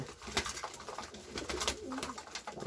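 Sick pigeons and young pigeon chicks coo and call softly around their feed, a steady murmur of close bird sounds with faint background noise and no talking.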